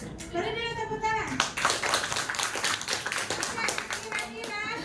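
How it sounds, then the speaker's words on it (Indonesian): A classroom group claps hands in a burst of applause in a teaching session, dense, loud clapping that follows a speaking voice and carries on under continued talk. "Oke, kira-kira beri dulu tepuk tangan"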